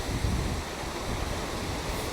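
Sea waves wash onto Torrevieja beach with a continuous rushing surf and some wind buffeting the microphone, steady and fairly close with no voices.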